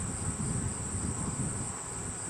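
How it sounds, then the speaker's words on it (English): A swarm of honey bees circles the hive entrance after moving off a bush, giving a steady, dense buzz that holds level throughout, with a thin high tone running over it and no voices. "Now there's still several hundred bees probably flying around the hive."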